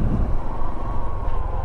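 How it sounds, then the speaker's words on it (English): Race cars running on the track at Barber Motorsports Park during the Small Bore festival, a steady distant engine drone with wind buffeting the microphone. "You can hear cars out here running."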